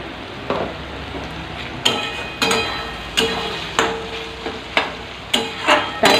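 Spice paste and ground spices stirred and scraped in a hot pan, with a faint sizzle under repeated sharp clinks of a spoon against metal, roughly once per second.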